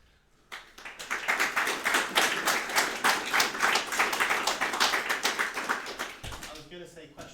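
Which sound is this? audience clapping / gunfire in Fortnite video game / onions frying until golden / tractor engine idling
audience clapping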